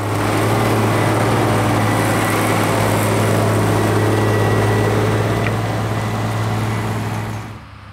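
A Schlüter 1250 tractor from an outdoor field day runs its 6-cylinder, 7.1-litre, 125 hp engine, a loud, steady, deep diesel drone held throughout before fading away at the end.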